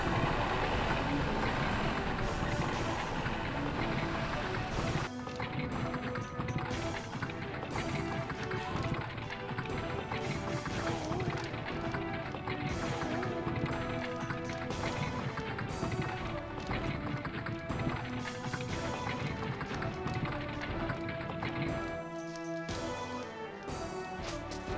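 In Legend of the Dragoon, a horse-like creature runs with steady, pounding footfalls under loud, dense game music and effects throughout.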